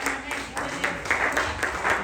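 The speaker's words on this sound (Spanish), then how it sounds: "Denle un aplauso al que vive." Church congregation applauding in a steady, dense patter of clapping at moderate volume, with voices speaking over it.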